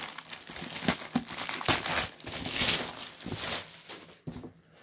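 Stiff plastic blister packaging around an Undercover Raphael Ninja Turtle action figure crinkles and crackles close up, with several sharp tearing bursts and rustles over a few seconds, no voices.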